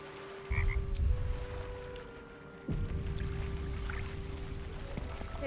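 A frog in the Baldur's Gate 3 video game croaks in short bursts over a steady hum and faint watery ambience, with a low rumble underneath and no talk.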